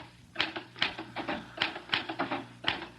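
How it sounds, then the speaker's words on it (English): Typewriter keys strike in an uneven, close rhythm of about a dozen sharp taps, with a low hum beneath, a typing effect in a radio mystery drama. "Why did I never learn to work a typewriter?"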